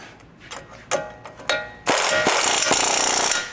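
A ratchet with a 22mm socket turning a tie rod nut on a Chevy/GMC 1500 truck knuckle, a few sharp clicking bursts followed by a loud continuous run of rapid ratcheting close by.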